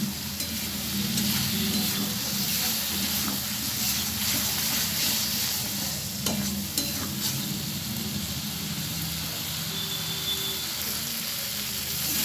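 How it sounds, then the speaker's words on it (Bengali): Spice paste being sautéed in a pan, a dense continuous sizzle with steady spatula stirring and scraping throughout, close and fairly loud, no voices. "ভালোভাবে মশলাটা এবার কষে নেব।"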